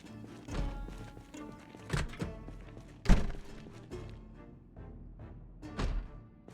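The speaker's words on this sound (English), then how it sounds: "So I did hear a door bang." Doors bang inside the Project Zomboid video game as several hollow thuds land at irregular intervals, one heavier knock standing out among quieter clunks.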